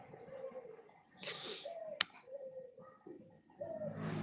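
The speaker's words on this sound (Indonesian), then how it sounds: "Jadi sebetulnya burungnya sih udah gacor." A white-rumped shama (murai batu) sings short, clear whistled phrases with a sharp click between them, fairly faint against a quiet indoor background.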